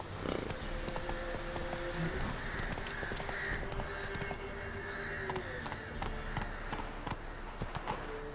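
Hooves of Roach, a horse in the video game The Witcher 3, clip-clop in a steady run with a brief whinny, set against continuous game ambience and music.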